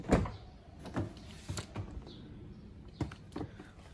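A 2018 Toyota Camry Hybrid 2.5 Luxury unlocks after a tap behind the driver's door handle, giving a few soft, scattered clicks and thunks against a quiet background.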